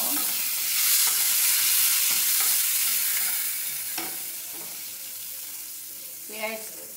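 Chopped garlic frying in a pan, a steady close sizzle with occasional spatula stirs and a scrape near the end, loud at first and easing slightly.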